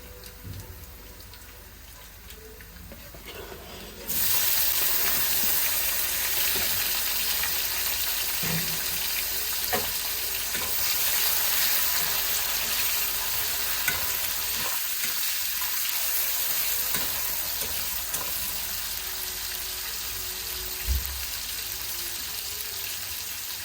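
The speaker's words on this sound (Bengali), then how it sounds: "পেঁয়াজটা আমার হালকা লাল হয়ে গিয়েছে, তো এখন আমি দিব টমেটো কুচি" Chopped tomatoes hit onions frying until lightly browned, and the gentle sizzle jumps into a loud, steady hiss that carries on evenly, with occasional stirring knocks against the pan.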